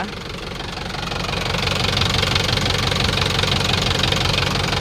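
A four-cylinder engine on a used 45-horsepower Euro tractor runs steadily close by, a loud, rough knocking idle that swells slightly and holds.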